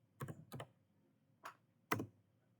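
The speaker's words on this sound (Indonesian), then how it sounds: "ngetik input" Keystrokes on a computer keyboard while entering web login form code, four distinct taps in two close pairs with a pause between, near and clear with no talk.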